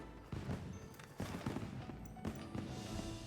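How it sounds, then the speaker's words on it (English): Fireworks at a festival in the game Wilds, bursting in quick, crackling volleys of sharp pops with a brief pause between clusters, fairly close and loud, with no talking. "Yes, with all the fireworks."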